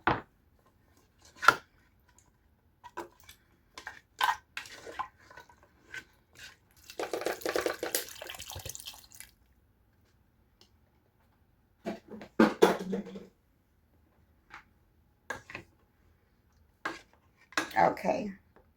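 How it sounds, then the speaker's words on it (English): Chopped grape tomatoes and carrots going into a pot for a beef neckbone stew, with intermittent clatter and scraping of utensils and cookware, one longer rattling pour, then a few more knocks, close and fairly quiet. "So I'm going to pour them in there with the carrots and let them cook also."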